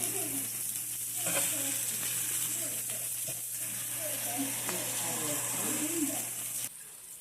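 Burger patties for sliders sizzle on a griddle in a steady, moderately loud frying hiss with small crackles and scraping, while a voice talks over it before the sound drops off at the end.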